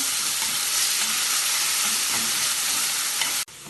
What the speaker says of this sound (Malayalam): ഇതിലേക്ക് നേരത്തെ ഉള്ളിയും ഇഞ്ചിയും വെളുത്തുള്ളിയും അരച്ചു വെച്ചത് ചേർക്കാം. ഇതിനി കുറച്ച് സമയം ഇളക്കി വഴറ്റാം.